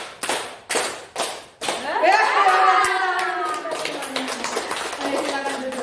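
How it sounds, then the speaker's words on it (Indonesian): A group of people claps together in a counted concentration exercise: several sharp in-unison claps, then a burst of chattering voices and laughter that continues over scattered claps. "Tepuk satu. Tepuk dua. Tepuk tiga. Tepuk empat. Tepuk lima."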